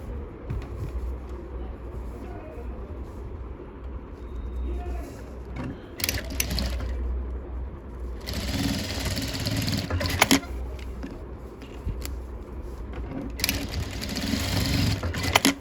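Sewing machine running a double line of stitching along a blouse, a steady mechanical whir with rapid needle clatter in bursts that start and stop, close and fairly loud.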